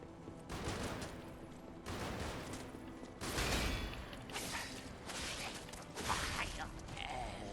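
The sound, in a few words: gunfire from enemies shooting at player in Lies of P video game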